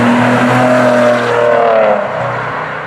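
A 2015 Maserati Ghibli SQ4 engine revs hard nearby, a loud, throaty roar that climbs and then eases off as it settles into a lower drone.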